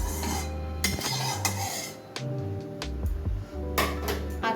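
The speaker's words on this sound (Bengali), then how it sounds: "আমার একটু নেড়ে নেব।" A metal spoon stirs and scrapes inside a kadai of hot mustard oil, giving several sharp clanks and scraping strokes in an irregular rhythm, close and moderately loud.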